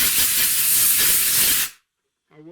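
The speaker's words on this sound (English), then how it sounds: "now I come in and I weld this" A welder joins patch panel pieces into a rusted car quarter panel with a loud, steady crackling hiss that runs for about a second and a half, stops abruptly, and gives way to silence before a voice begins.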